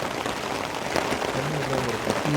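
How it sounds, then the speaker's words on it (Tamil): Steady, dense rain pattering close by on a taut tent, in Munnar, Kerala: a constant hiss with scattered sharper drops and faint low sounds underneath. "மழை பெஞ்சிகிட்ருக்கு"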